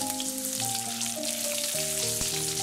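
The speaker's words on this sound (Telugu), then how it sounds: "తర్వాత ఎండుమిరపకాయలు వేసుకుని ఫ్రై చేసుకోవాలి" Dried red chillies fry alongside cashews and peanuts in hot oil, giving a steady, close sizzle and crackle under faint background music.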